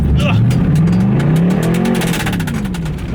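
A Corvette engine revs hard and rises and falls in pitch, with a rough scrabbling noise of tires spinning on dirt inside a warehouse, close and loud.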